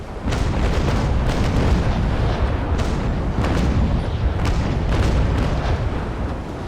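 Ship cannon fire in Naval Action, a string of booming broadside shots with deep rumbling reports, several distinct blasts rolling over one another at close range, with no speech.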